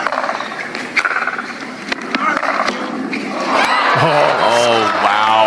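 A crowd roars and cheers loudly at a professional pickleball match between Ben Johns and Tyson McGuffin at the Atlanta Open, a steady wall of noise with excited shouts rising as a commentator talks over it.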